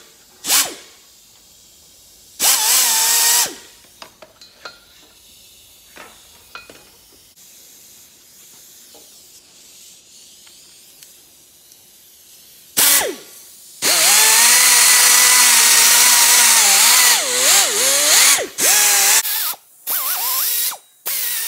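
A handheld die grinder with sandpaper cones ports a Ford 2V cylinder head, whining and hissing in several short bursts and then a long, loud stretch as the pitch rises and falls against the metal.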